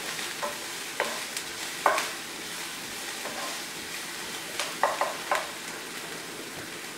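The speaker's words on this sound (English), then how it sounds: "Add a little garlic, fresh garlic, again, one or two cloves. Get that nicely sweated in the pan." Fresh garlic cloves sweat in a frying pan with onions for a bolognese sauce, giving a steady, soft sizzle close by, broken by occasional light stirring clicks. No one speaks.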